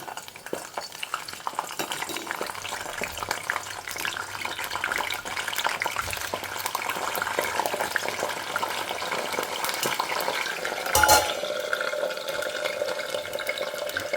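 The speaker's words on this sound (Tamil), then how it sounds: "கொஞ்சம் பொரியட்டும்." Brinjal pieces frying in hot oil with a steady sizzle, occasional stirring and utensil clinks, and a brief louder splash or clatter near the end.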